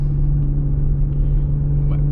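A 2020 Toyota GR Supra engine warming up, a steady low idle rumble with a constant droning tone, close and even throughout, with a voice speaking over it.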